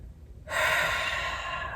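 A single slow, relaxed breath during a stress-release yoga exercise, a soft airy rush that begins abruptly and sustains, close to the microphone, with no talking.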